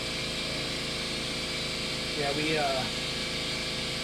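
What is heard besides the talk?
loud air compressor running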